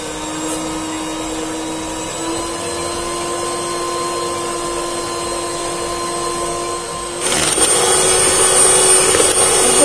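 An electric hand mixer beats unsalted butter in a bowl for a pudding, a steady whirring drone with a constant motor tone that grows louder and rougher near the end, no voices.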